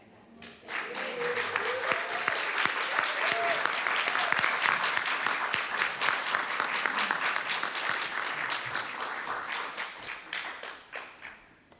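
A concert audience breaks into applause after a singer is brought up to join on lead vocals. Clapping swells quickly to a full, sustained burst, holds steady, then tapers off, with some voices heard briefly at the start.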